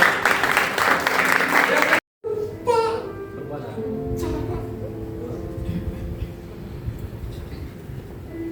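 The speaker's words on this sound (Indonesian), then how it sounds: "Ayo kasih tepuk tangan dong." Loud audience clapping at a church youth gathering fills the first two seconds, then cuts off abruptly, giving way to voices and a child's chatter with scattered room noise.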